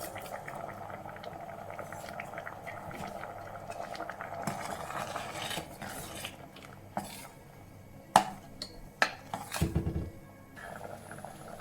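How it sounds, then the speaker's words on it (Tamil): A pot of pumpkin paruppu kuzhambu bubbles at a steady boil, with soft gurgling throughout and a few sharp metallic clinks of a utensil toward the end. "இது நல்லா கொதிச்சிருச்சு"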